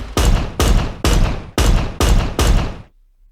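Combined gunshot and target-hit sound effect for a mech game built in Unreal Engine, fired six times in a steady rhythm of sharp, loud bursts that each decay briefly, then silence.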